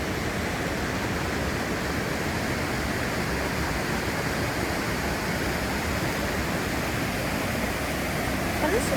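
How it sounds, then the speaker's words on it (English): Steady, broadband rushing of the Rogue River in Prospect, Oregon, constant and fairly loud throughout with no pauses or other distinct sounds. "And this is the Rogue River."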